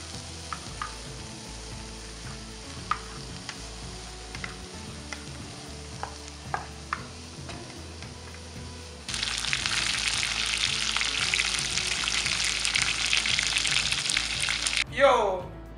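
Turkey frying in hot oil: quiet background with scattered clicks, then a loud, dense crackling sizzle bursts in and holds for several seconds before cutting off.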